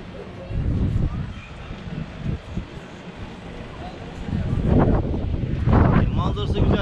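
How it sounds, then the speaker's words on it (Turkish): Heavy wind buffets the microphone in rough, rumbling gusts at Şeytan Sofrası, a scenic lookout in Ayvalık, swelling louder toward the end, with a voice faintly talking underneath. "Gerçekten rüzgar biraz fazla ama çok fazla rüzgar var."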